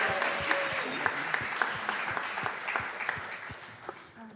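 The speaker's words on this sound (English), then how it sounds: "Let's give a big round of applause for Mohammed Al-Badawi." An audience at a student-organised medical and pharmacy conference applauds a guest speaker with steady, dense clapping from a moderately sized crowd, holding evenly for several seconds before tapering slightly at the end.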